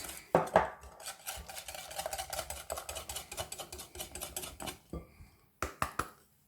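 A utensil clicks and taps rapidly against a bowl while flour is stirred into a sweet clafoutis batter, a dense close rhythmic clatter that pauses briefly near the end before a few last knocks.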